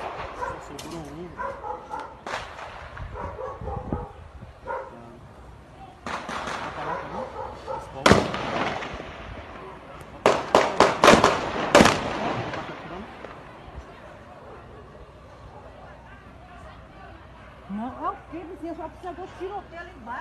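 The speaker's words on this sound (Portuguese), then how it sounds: "Tiroteio tiro na Jamaica agora, tiroteio" A gunfire exchange in Jamaica, Bahia, Brazil: sharp shots crack out singly and in rapid clusters, some loud and some farther off, while dogs bark and people talk nearby.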